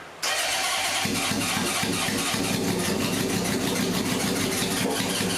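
A Honda CB750 motorcycle engine cranks and tries to start with the choke on, a loud, steady churning roar that begins abruptly and runs continuously without catching into a clean idle.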